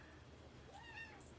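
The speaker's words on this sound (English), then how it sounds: "He is our kitten." A young kitten gives a single faint, high rising meow, close by and quiet against a low background hum.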